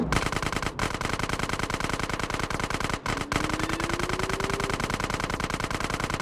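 Rapid automatic gunfire from a gun in the video game GTA San Andreas, a loud continuous burst of machine-gun shots running almost without pause, with two brief gaps.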